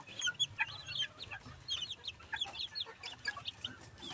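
Young chickens cluck and chirp in short overlapping bursts while being fed Integra 2000 feed, a busy close flock sound with no voices.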